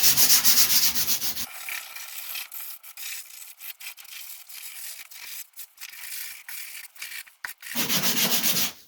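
Sandpaper of 80 grit is worked by hand over the bodywork of a Ford Escort MK1, giving bursts of rough, scratchy rubbing with a pause in the middle of the strokes, fairly close by.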